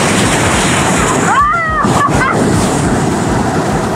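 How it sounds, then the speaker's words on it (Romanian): Sea waves and surf wash steadily at the beach under heavy wind noise, a constant near roar with a child's brief high calls partway through. "Eu vreau să testez valurile, doar ca să plec mai adânc."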